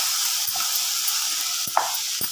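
Tomatoes sizzle steadily in a hot pan while cooking for white sauce pasta, a close, continuous frying hiss with a few brief clinks and stirring knocks.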